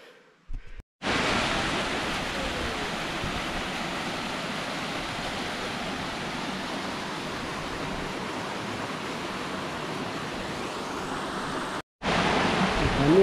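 Steady, loud rush of falling water at Wadi Kharar waterfall near Mecca, Saudi Arabia, a dense continuous roar with a brief cutoff near the end.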